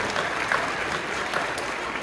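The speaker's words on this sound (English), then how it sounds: "So if we could just give them a round of applause." Even, continuous clapping from an audience at a school choir concert, a moderately loud wash of many hands with no voices on top.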